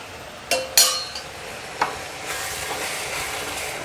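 Coconut filling with milk stirred in a pan for patishapta pitha, heard as a few sharp metallic clinks of a spatula against the pan followed by soft scraping and a faint steady sizzle, close and without talk.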